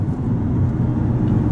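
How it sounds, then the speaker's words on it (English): A truck with a 460 engine under way, a deep, close engine rumble with steady low throb and road noise from inside the cab, no talk. "the 460 is addicting in these trucks because they make a killer sound and they just get up and"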